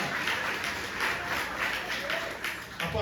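A church congregation claps together during a service, a steady dense patter of applause filling the room from start to end at moderate level, with voices mixed faintly underneath.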